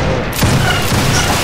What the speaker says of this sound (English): That was a good volley.